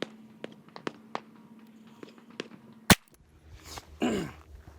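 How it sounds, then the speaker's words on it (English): A single handgun shot, fired one-handed during a dot-drill practice session, cracks sharply at mid-distance. Light taps and shuffling come before it, and rustling movement follows. "how are you going to shoot the gun one-handed?"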